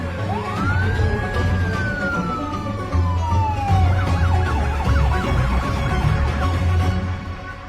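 A loud police car siren sweeps up and slowly falls, then switches to a rapid warbling wail, over steady traffic rumble and engine noise.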